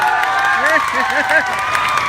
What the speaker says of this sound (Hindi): बस जोरदार तालियां बजा दो।